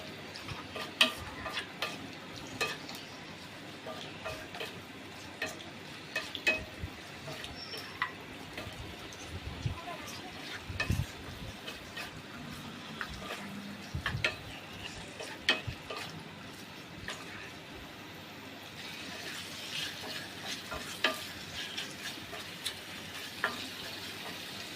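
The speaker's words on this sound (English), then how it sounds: "add the marinate chicken. I will mix in everything." Marinated chicken stirred in a hot pan for Gondhoraj chicken, a steady close sizzle broken by frequent clicks and scrapes of the spoon against the pan, with no talking.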